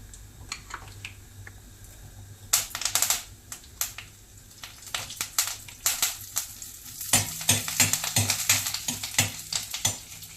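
Lentils and green and red chillies roasting and crackling in a pan for a tempering, sharp bursts of sizzle and popping with intermittent scraping of a spoon, close and fairly loud.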